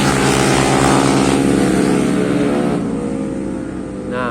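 A used Yamaha Mio Sporty motor scooter with worn seals revs loudly up close, its engine buzzing high and steady before easing slightly, with no talk over it.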